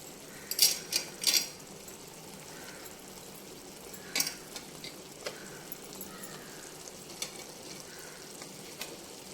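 Mutton curry with capsicum sizzles softly in a pan while being stirred, with several sharp scraping and clinking spoon strokes at the start and around four seconds and gentle frying underneath, no talking.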